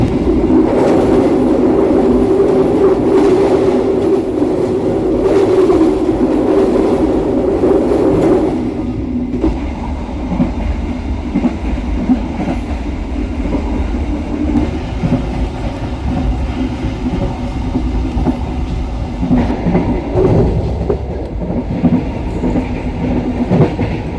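Economy daytime passenger train from Bandung to Jogja running steadily, a loud continuous interior rumble with rhythmic wheel clatter and droning hum that eases slightly partway through, with no voices.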